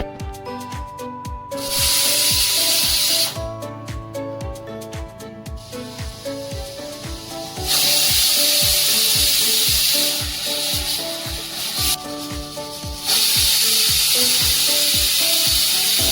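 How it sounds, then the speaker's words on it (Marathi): A pressure cooker cooking whole masoor lentils lets off repeated long, loud hissing bursts of steam, several seconds each, over music playing in the background. "कुकरच्या दोन ते तीन शिट्ट्या झालेल्या आहेत"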